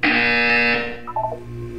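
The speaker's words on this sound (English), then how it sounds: "You will hear a buzzer." A loud, harsh electronic buzzer from the video game Portal 2 blares steadily for about a second, then cuts off, leaving brief softer tones and hum.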